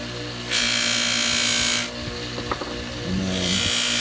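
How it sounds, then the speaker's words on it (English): Motorized buffing wheel spinning up for polishing clear pinball plastics from a Bally Vector machine, a steady broad whir running loud for over a second, then a few faint clicks before the motor hum returns. "I come over to my buffing wheel, which I got here, and turn it on"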